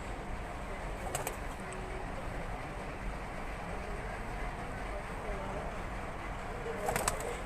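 Pigeons coo softly on a rooftop loft in Faisalabad, low and steady beneath a constant hiss of background noise, with people talking nearby and a couple of faint sharp clicks.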